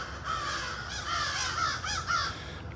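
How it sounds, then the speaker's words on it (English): Harsh crow caws repeat in a loose series before sunrise, fairly close and loud, with no talking. "All the birds are here and making noise"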